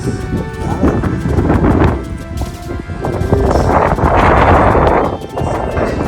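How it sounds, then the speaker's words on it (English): Strong gusts of wind buffet the microphone, roaring and rumbling unevenly and swelling louder in the middle. "Stormy, windy, but it's quite beautiful and bracing."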